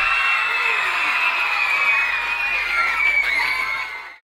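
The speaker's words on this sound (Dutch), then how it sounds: "Geef een applaus voor Louis." At a 2012 Amsterdam student debate competition, a crowd in a hall breaks into loud, continuous cheering with whoops and applause, a sustained wall of excited voices that fades out abruptly at the end.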